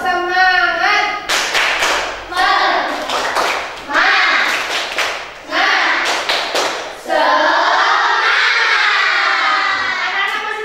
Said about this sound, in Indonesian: tepuk-tepuk dulu yuk. Tepuk semangat.